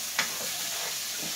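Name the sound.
garlic sizzling and being stirred in a pan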